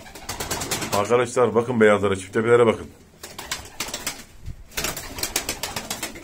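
Turkish play pigeons and their chicks coo softly in a throaty, rolling murmur with occasional wing flaps, under close conversational talk.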